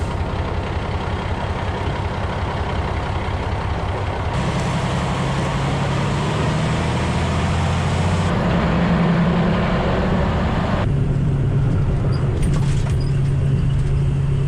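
A dump truck drives along on the way to a home addition dirt-work site, its engine and road noise loud and steady throughout, with gear-like shifts in the low drone and no talking.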